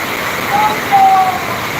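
Heavy rain pours down on a waterlogged street where water is pooling toward shops, a dense continuous rushing wash with faint tonal whistles and no clear speech.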